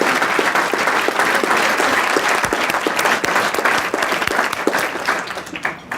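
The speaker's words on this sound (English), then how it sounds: "can I get a big round of applause for everybody" Sustained applause from a luncheon audience at a business forecasting event, dense steady clapping throughout that thins slightly at the very end.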